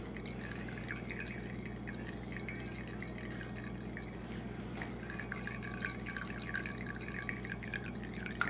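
Homebrew wort running from a mash tun spigot during vorlauf recirculation, a steady trickling and dripping liquid stream over a constant low background hum.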